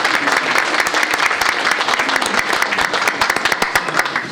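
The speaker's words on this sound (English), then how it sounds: "let's give them another round of applause." Loud, dense applause fills a school board meeting room, many hands clapping steadily and close by with sharp individual claps throughout, no voices over it.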